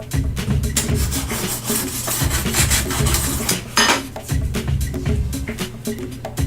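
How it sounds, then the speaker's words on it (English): A sharpening stone rubbed along the side of a freshly sharpened ice skate blade to take off burrs, giving steady close rasping strokes that repeat with a rough back-and-forth rhythm throughout. "we're going to take off the burrs from the side with our stone over here."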